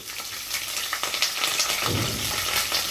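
Green chillies and curry leaves hit hot oil for lemon rice, giving a loud, close, crackling sizzle with bursts of spitting and a stirring scrape partway through; no speech.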